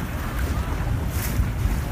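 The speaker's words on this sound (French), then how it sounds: "Mais le vent est assez fort" Strong wind buffets a sailing boat during a race on open water, a steady low roar of wind and water noise rumbling continuously throughout, with no voices.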